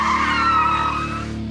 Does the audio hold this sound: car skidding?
yes